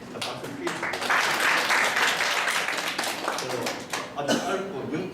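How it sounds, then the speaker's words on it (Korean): Students at a girls' high school assembly applaud after a short economics club introduction, with a dense wash of clapping that swells, holds for a few seconds and then thins out. "저도 박수 드리겠습니다."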